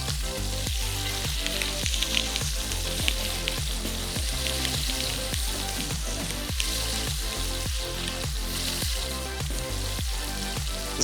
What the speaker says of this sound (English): when you can hear it sizzling like that